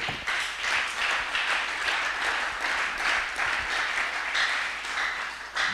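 A church congregation claps together in steady, continuous applause, loud and close, filling the whole stretch with dense rhythmic clapping and no talk over it.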